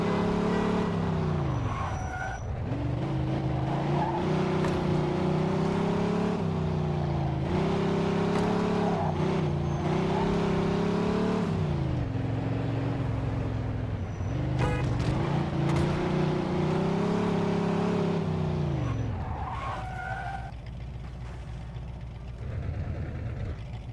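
Car being driven in the video game Mafia II, with a continuous engine drone that rises and falls as it accelerates and shifts, loud and close, with brief skids and no talking.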